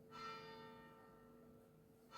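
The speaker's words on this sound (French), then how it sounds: "Il est 9h, les cloches sonnent." Church bells ringing at nine o'clock, a rich sustained peal with many ringing overtones, swelling at the start and decaying slowly, heard alone at a moderate distance.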